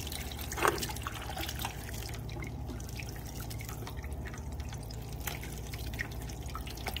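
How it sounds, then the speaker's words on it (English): Faint water fizzes and sparkles in the severely frozen evaporator of a leaking walk-in cooler, with soft drips over a steady low machinery hum. "The water has like a sparkling sound to it."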